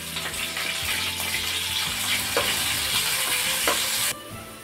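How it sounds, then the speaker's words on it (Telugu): Onion paste for a mango fish curry hits a hot oiled pan with curry leaves, giving a loud, dense sizzle and frying hiss with some stirring scrapes, which cuts off abruptly near the end. "ఉల్లిగడ్డ పేస్ట్ వేస్తాం."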